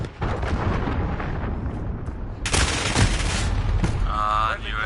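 A loud, dense barrage of booming gunfire and explosions during an allied cruise missile strike in Call of Duty Modern Warfare, with a sharp, louder blast surge midway and sustained rumble to the end.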